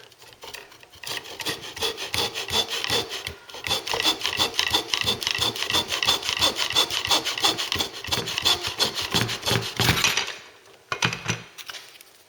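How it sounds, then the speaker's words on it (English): A tenon saw cuts through a strip of wood held in a bench hook, with steady back-and-forth rasping strokes for about ten seconds, then a brief pause and a final few strokes, close and fairly loud. "can we use the tenon saw here just to saw"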